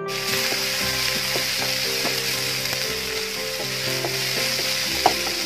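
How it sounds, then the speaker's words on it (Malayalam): Two sliced onions fry in oil in a pan, a continuous close sizzle broken by repeated scraping stirs of a spoon, with no talking. "ഞാൻ ഒരു പാനിൽ എണ്ണ ഒഴിച്ച് വെച്ചിട്ടുണ്ട്. അതിലോട്ട് രണ്ട് സവാള കട്ട് ചെയ്ത് കൂടി നമുക്ക് ഇട്ടാം."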